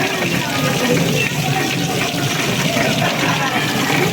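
Water runs steadily through a paper-making press, a continuous close wash of flowing liquid that persists evenly from start to end.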